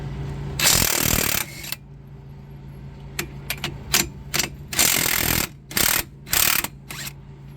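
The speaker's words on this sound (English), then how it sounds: "We're going to use an impact." An impact wrench rattles in loud bursts while removing 21 mm strut nuts on a 2006 Chevrolet Impala, starting with one long hammering run and followed by a string of short stuttering blasts and quick taps nearby.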